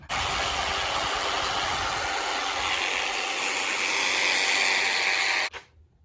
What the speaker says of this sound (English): I'm gonna try to hook up this jigsaw here just to test out the function on that.